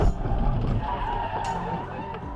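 A car on a highway skids with a rough tire-scraping roar, then a sharp burst of impact noise as it slams into the side of another car, close and loud, with no talk.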